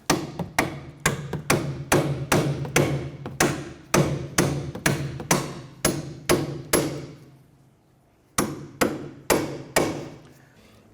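Hammer tapping a strut mount bolt into place on a 2006-2013 Chevrolet Impala: about twenty sharp metallic strikes in quick bursts, a pause, then four more, close and loud.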